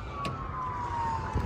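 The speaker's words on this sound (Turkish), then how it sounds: "Şu ambulansı takip edelim mi? Nereye gidiyor acaba?" An ambulance siren sounds at a distance, a steady wailing tone drifting under low traffic rumble.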